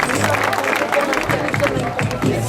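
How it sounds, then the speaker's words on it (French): Crowd applause for a young climber at a youth European bouldering cup in L'Argentière, steady clapping and murmuring voices running under a commentator talking throughout. "applaudissements pour Maurice Hans"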